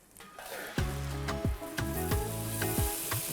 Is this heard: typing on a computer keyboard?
no